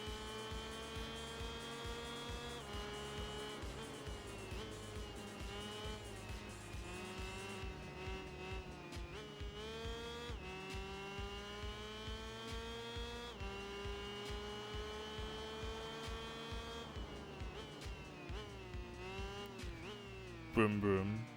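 A TZ125 motorcycle engine in the Tourist Trophy video game, a steady high-pitched racing whine that climbs and drops repeatedly through gear changes for the whole stretch, with a brief louder burst at the end.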